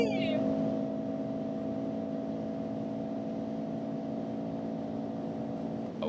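Simulated engine sound in a Mercedes GLC 43 AMG on the move, a steady droning hum with sustained tones under faint cabin noise.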